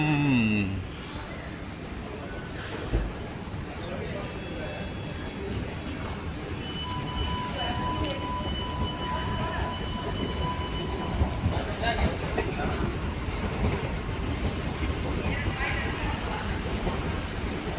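A Doha Metro train in Qatar rumbles along close by, wheels clattering steadily with brief high squeals, a loud continuous rolling noise throughout.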